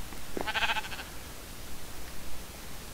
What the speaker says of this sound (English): But I was looking at sheep. he's a cute little sheep.